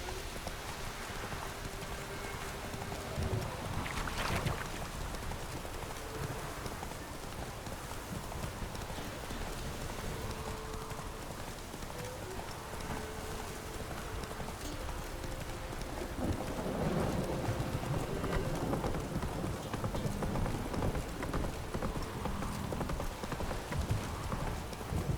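Horses gallop with steady clip-clop hoofbeats in The Witcher 3 game, continuous across the scene over a bed of rain and rumbling thunder, with no talk.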